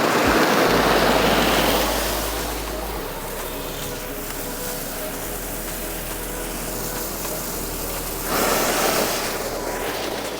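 Water rushes out through a pipeline bypass valve in a steady, loud roar, swelling slightly toward the end, with no voices.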